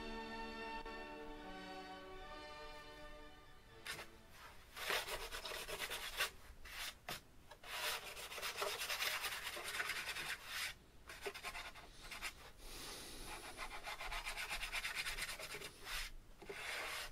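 Sandpaper rubbed lightly over a soft balsa wood wing for a SLEC Sky 40 model aircraft gives close, steady scratchy strokes that start after a brief tonal hum and carry on alone with no talking.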